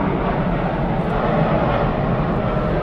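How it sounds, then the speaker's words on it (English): An airplane flies near Miami airport with a loud, steady, broadband roar from its engines. The noise fills the whole stretch evenly, with no voices. "There's a plane here. I'm here by the Miami airport."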